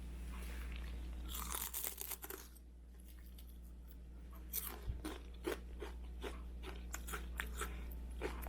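Crisp, close crunches of fried seaweed chips being bitten and broken, in short bursts with quiet pauses between, over a low steady hum.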